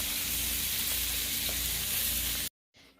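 Bratwurst sear in a hot pan with a loud, continuous close sizzle and hiss that cuts off abruptly to near silence, leaving only a faint trace afterward.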